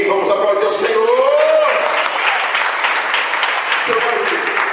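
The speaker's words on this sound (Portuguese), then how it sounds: "Vamos aplaudir ao Senhor." A church congregation applauds the Lord during a worship service, producing a thick, sustained burst of clapping from many hands, with voices calling out over it near the start.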